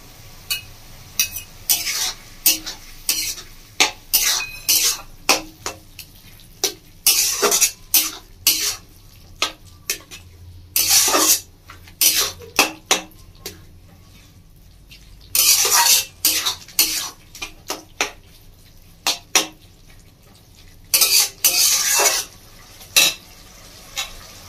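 Spice mix is poured into a pan with a rui fish head and stirred for a mulo chechki, giving intermittent bursts of scraping and clinking against the pan with quiet pauses between them, and no voices.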